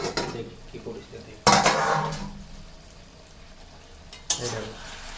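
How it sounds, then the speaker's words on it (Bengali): A pot lid of chicken kosha curry on a low gas flame lifts with a clatter of metal, followed by a burst of steam and sizzle that fades, then another sharp clank as the lid shifts again. "এবারে ঢাকাটা একটু খুলি, দেখি কি পরিস্থিতি।"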